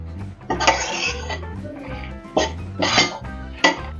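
Tamarind chutney ingredients dry roasting in a pan at home, heard as a few separate bursts of scraping and stirring against the pan over a low background, with no voices.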